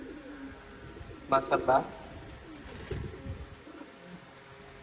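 Racing pigeons kept in a loft give a short burst of close, throaty cooing over a steady hum, with someone talking before and after the calls.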